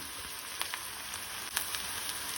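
Teasel gourd (kantola) cooking with softened onion in a pan gives a steady, fairly quiet sizzle with a few faint clicks of stirring, and no one speaks.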